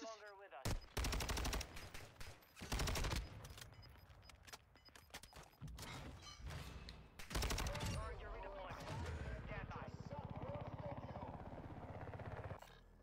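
Gunfire in a shooter video game comes in dense, loud rapid bursts with gaps between volleys. Then a long stretch of continuous combat noise follows.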